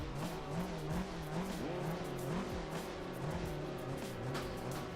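Engine of a 1986 Porsche 944 Turbo S lapping Laguna Seca, a steady droning note that rises and falls with gear changes and throttle, heard from inside the car with faint tire noise and no talking.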